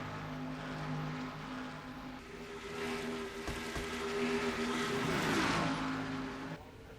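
Race cars roar through a NASCAR-style racing game, the rainbow number 24 and black number 3 cars battling side by side, engines droning steadily with a swell as a car closes in, loud and continuous.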